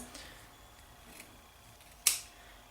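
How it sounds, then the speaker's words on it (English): A single quick, crisp snip of scissors cutting ribbon at an angle near the end, sharp and close against quiet room tone. "you take the scissors and just cut it at an angle"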